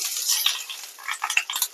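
Chili frying in hot oil in a wok, a bright crackling hiss under repeated metallic clinks and scrapes of a stirring utensil.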